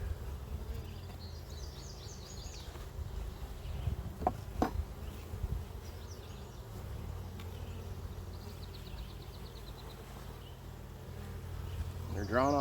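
Honey bees droning steadily around a garden hive, a continuous close buzz with a few brief louder passes of single bees.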